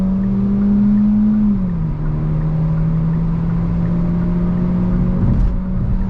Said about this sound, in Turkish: 6000 devir çeviriyor.